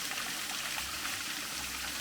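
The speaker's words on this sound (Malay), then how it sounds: "Mini waterfall." A small waterfall and stream at a campsite in Malaysia give a steady, close rush of flowing water, continuous and even for the whole stretch with no voices.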